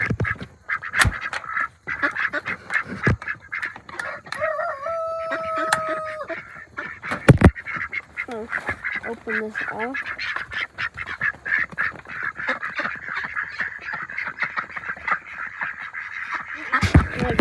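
Ducks let out of their shelter in the morning give a series of short quacking calls, nearby and mid-level, mixed with other barnyard fowl noises and scattered handling clatter, while someone speaks briefly over them.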